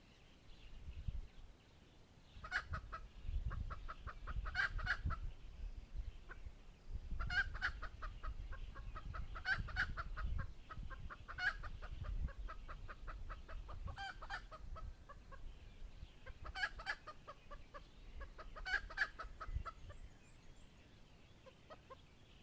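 A red junglefowl hen clucks in repeated bursts of sharp, rapid cackling, fairly close and loud in an outdoor rural setting in Dak Lak, with no talking.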